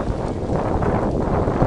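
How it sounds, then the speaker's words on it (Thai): Strong storm wind buffets an outdoor microphone during a Thai football match, a steady broadband roar with gusting swells throughout and a brief louder thump near the end. "ลมก็มานะครับ"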